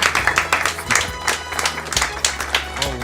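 A small group in a radio studio claps for a victory, irregular close-up hand claps in uneven bursts over a low steady hum, with a voice briefly in the background.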